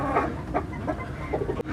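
A large rooster of about 3.5 kilos clucks in a farm coop, a few short soft calls spaced across a steady background murmur with a brief knock near the end.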